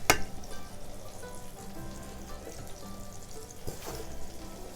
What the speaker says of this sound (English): we've got about 350 degrees and some vegetable oil right here, and so we're just going to drop these babies in here